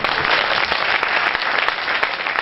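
An audience at a religious poetry gathering breaks into dense, continuous applause that holds steady and loud for the whole short stretch, with no talking over it.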